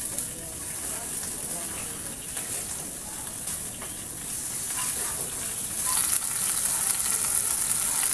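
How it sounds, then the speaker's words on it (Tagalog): Food sizzles and hisses steadily in a frying pan as it is stirred, a continuous close crackle that grows slightly louder toward the end. "Haluin po natin mga kapams. Samahan niyo po ako sa paghalo."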